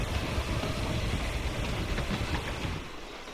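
Steady rumble and rattle of a moving train in the video game Hitman III, loud and continuous, with no voices over it.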